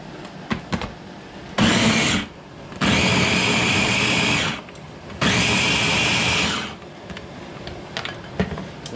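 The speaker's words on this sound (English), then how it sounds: "Put them in the mixer, blender, mixer." A blender chopping tomatoes whirs loudly in two long bursts of a few seconds each, with a short pause between and quieter kitchen clatter before and after.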